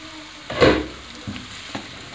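Chicken tikka pieces frying in a pan give a sharp burst of sizzle, followed by a couple of softer stirring scrapes, close by with no talking.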